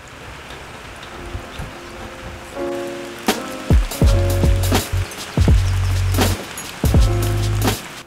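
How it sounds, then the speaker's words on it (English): Steady rain falls outside a workshop during a school bus conversion build, a continuous patter heard from indoors, broken by several loud low thumps and knocks from nearby. "it is really rainy and muddy outside"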